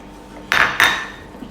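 A utensil knocks twice against a pot while thick taro and coconut pudding batter is stirred, two sharp metallic clinks close together, with a quiet kitchen hush around them.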